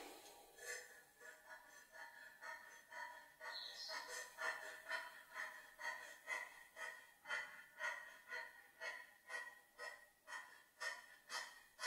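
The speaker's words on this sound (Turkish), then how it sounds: "ağzından kesik kesik nefes al ve ver" Rapid, rhythmic panting breaths pushed in and out through the mouth in a yoga breathing exercise, close and regular, continuing without pause and with no talking.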